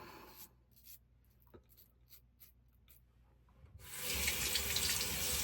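A bathroom tap runs during a wet shave with a safety razor. A few faint ticks and light rubbing come first, then water bursts from the faucet into the sink as a loud, steady close rush for the last seconds, with no talking.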